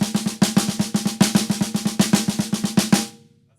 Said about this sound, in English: Let's say someone's working on the ever-popular six-stroke roll, or the sort of inverted paradiddle-diddle variation, and it sounds something like this.